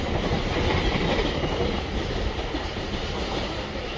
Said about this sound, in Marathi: प्लॅटफॉर्म क्रमांक 4 वर आलेली लोकल 4:15 टिटवाळा आहे।